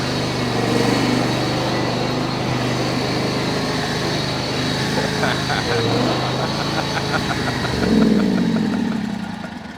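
A riding lawn mower fitted with new rubber tires running steadily on a test run, its engine droning close by throughout with a brief rise near the end.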